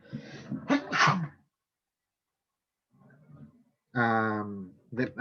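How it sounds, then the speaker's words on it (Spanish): A single loud sneeze sounds up close after a stretch of talk, followed by a pause and then more speech. "Perdón, voy a estornudar."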